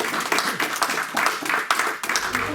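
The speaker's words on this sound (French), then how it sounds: "Merci, on va vous applaudir." A lecture audience applauds a historian's talk, dense clapping from many hands rolling on steadily at moderate distance, with some voices mixed in.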